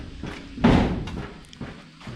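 A door in a rural Thai village house is shut with a single heavy thud of moderate loudness, followed by a few fainter knocks and shuffles in a quiet room.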